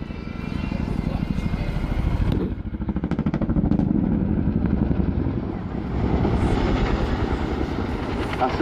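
An RAF Chinook twin-rotor helicopter in a flying display at an air day, its deep, pulsing rotor thud and engine roar loud and sustained, dipping briefly and rising again, with a voice speaking over it.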